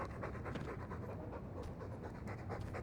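A dog panting quickly and rhythmically in the video game Dragon Age 2, close and fairly quiet, with steady short breaths throughout.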